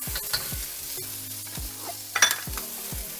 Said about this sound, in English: now we're gonna add in our rice